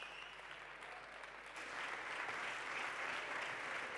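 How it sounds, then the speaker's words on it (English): Audience applause at a startup conference stage fills the space, a steady wash of clapping that swells louder halfway through and continues without voices. "applause"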